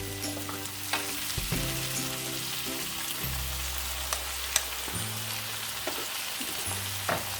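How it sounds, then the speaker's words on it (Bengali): Cauliflower fries in a pan with a ground spice paste of cumin, coriander, ginger and turmeric: a steady close sizzle, broken by occasional stirring knocks, over a low background hum. "মশলাটা দিয়ে ভালো করে কষাতে হবে ফুলকপিটা"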